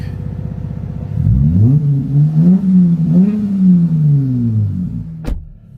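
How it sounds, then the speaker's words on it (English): A car engine fitted with an Injen X-Pedal Pro throttle controller set to Sport 5 idles briefly, then revs up and down in a few rising and falling sweeps, loud and close, before dropping back to idle with a short sharp click near the end. "Just had to rev it. This is only on Sport 5."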